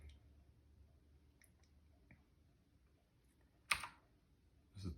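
Keys struck on a Keychron K4 mechanical keyboard, a few sparse, quiet clicks with a sharper clack near the end against a faint, hushed background.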